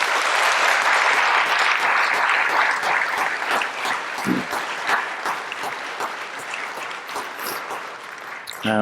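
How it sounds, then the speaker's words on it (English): A conference audience at a medical session on brachytherapy gives a loud, sustained round of applause that fills the whole stretch with dense clapping and eases slightly toward the end. "one more round of applause"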